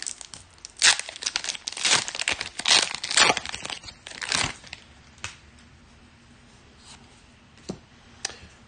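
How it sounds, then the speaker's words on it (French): A Pokémon Fusion Strike booster pack wrapper is torn open, giving loud close crinkling and tearing bursts for a few seconds, then a handful of quieter isolated rustles. "Et on va ouvrir le quatrième booster."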